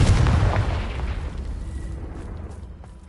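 A Confringo blasting-spell explosion in the Hogwarts Legacy video game: one loud, close, deep boom that hits at once and rolls off into a long, fading rumble, with no voices over it.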